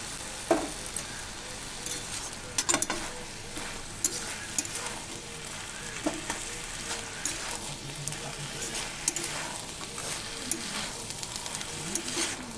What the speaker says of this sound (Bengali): ভেজে রাখা বড়ি দিয়ে দিচ্ছি